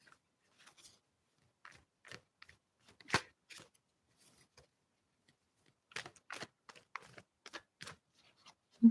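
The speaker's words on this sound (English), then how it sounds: "Okay, so I'm just gonna shuffle the cards." Tarot cards are shuffled by hand at close range, making sparse, quiet riffles, taps and soft clicks in short bursts separated by silence.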